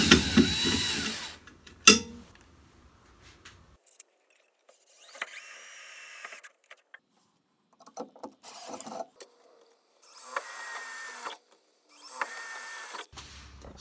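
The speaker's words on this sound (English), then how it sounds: "I'm just pre-drilling these so that I can take the L brackets right in" A power drill pre-drilling holes for L brackets runs in several short bursts separated by quiet pauses, each whirring spin close and fairly soft, with a few clicks and handling knocks between them.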